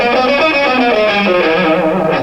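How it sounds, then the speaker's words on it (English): Electric guitar playing a melodic minor scale with distortion, a quick, steady run of singing notes that is loud and continuous, with no speech. "basically what you get is a natural minor scale with a raised third."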